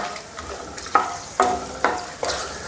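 Whole spices, cinnamon, cardamom, cloves, fennel and peppercorns, frying in hot coconut oil in a pan, a close sizzle with four sharp clinks of a spoon stirring against the metal at a steady pace.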